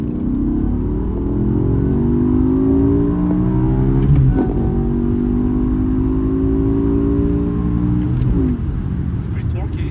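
A loud 5.0-liter V10 engine in a 2007 BMW M5 with a six-speed manual drones steadily, pitch sweeping up and dropping between shifts, with a brief snap near the middle; muffled voices surface now and then underneath.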